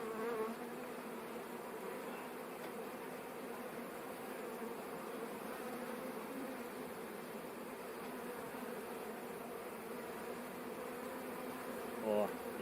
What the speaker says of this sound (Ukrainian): і буду ним змітати бджілок